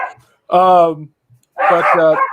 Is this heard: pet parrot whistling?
no